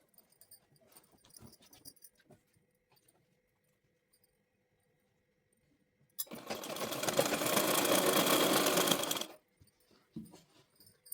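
A sewing machine stitches a palazzo pant seam in one burst of about three seconds, loud and steady, after a stretch of near silence with faint handling noises.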